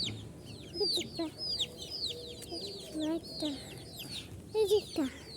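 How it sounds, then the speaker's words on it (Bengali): Several chickens cluck and call close by in a farmyard, with short irregular bursts and overlapping bird chirps in the background. "অনেকগুলি মুরগি।"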